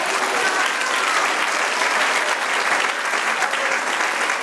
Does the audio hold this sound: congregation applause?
yes